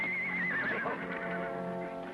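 A horse in an old western gives a long, wavering whinny, close and clear, with faint hoofbeats alongside and no talk.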